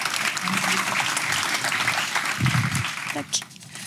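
Brief applause from a marketing-conference audience welcoming a speaker onstage, moderate clapping mixed with a few voices talking over it, fading toward the end.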